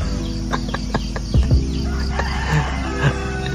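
A loose rooster crows loudly nearby in an indigenous community, its long harmonic call rising and falling over steady outdoor background noise, with a few short clucks mixed in.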